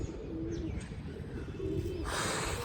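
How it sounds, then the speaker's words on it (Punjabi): A pigeon near a rooftop gives a few soft coos over steady outdoor background noise, followed by a brief burst of flapping wings toward the end. "ਕਬੂਤਰੀ ਕੋਠੇ ਤੇ ਆ ਕੇ ਉੱਡਦੀ ਸੀ"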